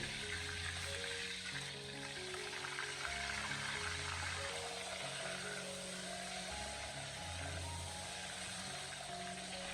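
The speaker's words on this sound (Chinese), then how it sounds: "经过这样子小火慢慢的煎制以后，可以将鸭皮煎香" Duck skin fries slowly in a pan over low heat, giving a soft, steady sizzle and crackle, with low background hum throughout and no voices.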